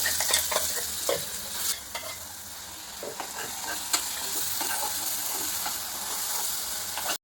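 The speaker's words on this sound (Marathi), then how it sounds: "त्याच्यामध्ये आपण जो मसाला वाटून घेतलेला आहे मिक्सरमध्ये तो शिजवून घ्यायचा." Ground masala fries in oil in a pan for a stuffed pomfret dish, with a steady sizzle under repeated scraping and stirring clicks, close and moderately loud, without talk.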